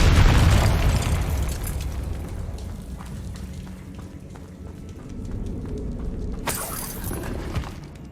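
Confringo fire spell blasting in the Hogwarts Legacy video game, a loud booming explosion that bursts at once and then rumbles on as a dense roar of debris and crackle.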